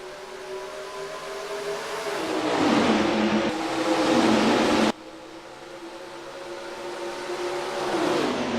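Race cars in the NR2003 simulator at Atlanta Motor Speedway, engines droning and rising in pitch together as the pack accelerates, with a steady roar and a sudden cut partway through.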